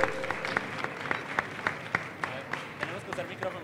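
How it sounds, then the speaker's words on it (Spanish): Applause from a small hackathon audience, with several distinct, rhythmic loud claps standing out over a softer bed of clapping and faint background voices. "un aplauso a todos"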